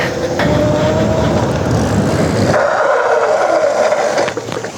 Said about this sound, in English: And we'll just do a brake test.